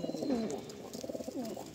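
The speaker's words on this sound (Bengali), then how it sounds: "তো এই তিনটে গিরিবাজ পায়রা যদি কেউ মনে করেন নেবেন" Giribaz pigeons coo softly at close range in a loft, a couple of low rolling calls over faint ambient noise.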